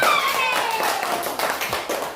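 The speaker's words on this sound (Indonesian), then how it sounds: "kasih tepuk tangan untuk Ryan" A small group of elementary schoolchildren claps for a classmate in a classroom. The claps are close and uneven, with a faint high whistle-like tone early on and some background murmur.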